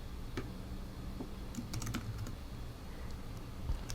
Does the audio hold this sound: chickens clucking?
no